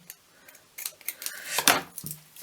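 Scissors cut cotton fabric or thread for running-stitch work, making a few quiet, close snips and clicks in short irregular bursts.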